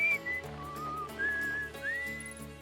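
Someone whistles a short melodic tune from the video game Outer Wilds over soft background music, the notes gliding and held, clear and fairly close.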